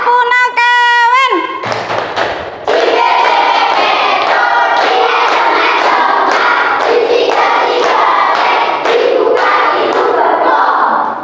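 A classroom group performs the tepuk punakawan clapping routine, a dense run of loud rhythmic claps with chanting voices throughout, after a brief sung or called opening.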